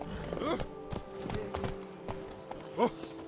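Roach the horse's hooves clip-clop at an easy walk in The Witcher 3, a steady run of close, crisp hoof beats with a brief snort or whinny near the end.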